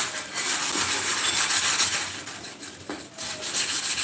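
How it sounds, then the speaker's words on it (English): A pot is scrubbed in a kitchen, a close, continuous rough rubbing and scraping with a steady back-and-forth texture and no talking. "I'm scrubbing the pot so I don't wet the place"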